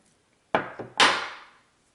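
A crimping tool clamps a metal sleeve onto an umbrella rig fishing leader, giving a sharp snap, a smaller click, then a harder squeezing crunch that trails off, close by and alone.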